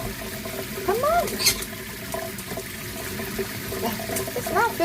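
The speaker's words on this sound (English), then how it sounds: "It's not filling up in the sink." Water runs from a tap into a sink being filled for a green-cheeked conure's bath, a steady splashing trickle close by, with a bird's chirps and soft voices over it.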